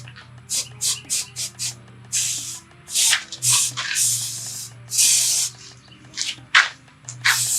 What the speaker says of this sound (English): it wants to spray in a fan spray